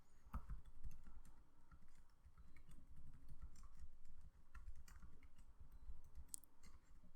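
Steady typing on a computer keyboard at a Python interactive shell, a continuous run of soft, close key clicks with uneven rhythm and no voices.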